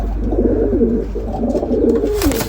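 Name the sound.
pigeons cooing, pigeon chick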